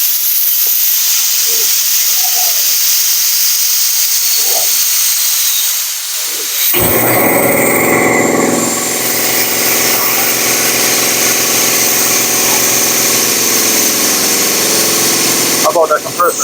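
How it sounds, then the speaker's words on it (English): A 1985 air compressor kicks on partway through and runs loud and steady with a broad hissing mechanical roar. Faint quiet sounds come before it starts. "I bought that compressor in '85."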